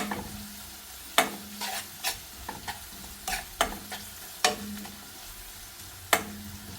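Crushed ginger and garlic stirred in a pan with a spatula, a series of sharp scraping clicks over a faint steady sizzle, close and alone with no talking.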